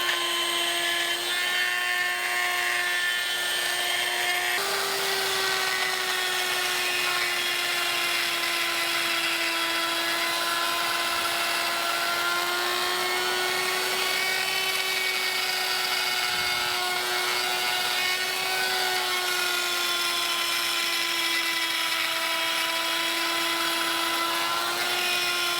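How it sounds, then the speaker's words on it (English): Tapered burr on a die grinder grinding open an oil passage hole in a Ford FE engine block: a steady, high-pitched whine held for the whole stretch, close and loud, with no talking. "I'm going to start with this same tapered burr just to open up this hole in the shape I've got here"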